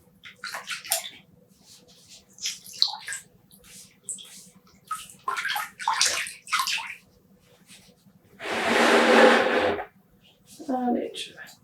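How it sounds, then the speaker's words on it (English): Wet yarn skeins are squeezed and lowered into a pan of water, giving soft wet squelches and a burst of splashing and trickling, close and moderate in level. "squeeze out some excess water, and put it in the pan"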